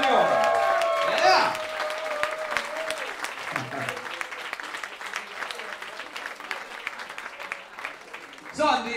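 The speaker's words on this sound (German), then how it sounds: "der Steffen, der kriegt jetzt einen fetten Applaus am Video" A club crowd at a live band show breaks into loud, continuous applause that gradually thins. Voices call out over it at the start and again near the end.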